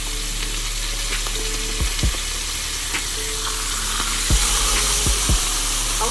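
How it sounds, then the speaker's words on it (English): Seasoned chicken sizzling in a frying pan, a loud, steady crackling hiss close by, with a few soft knocks and clinks of a utensil against the pan. "when you hear that sizzle, you know it's ready."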